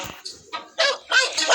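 Pet puppy in the PK XD video game giving a few short yappy barks in separate bursts, close and fairly loud, with no talk over them.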